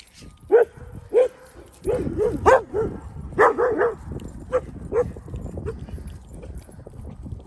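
Several dogs in a pack bark in short, loud bursts, some close together in quick doubles, over scuffling and background noise, with quieter gaps toward the end.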